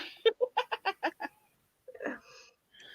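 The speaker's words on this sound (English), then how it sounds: "is it Mr. Bird there" A chicken clucks in a quick run of about seven sharp, evenly spaced clucks, close and clear, then falls quiet before giving a rougher, drawn-out squawk and another brief call.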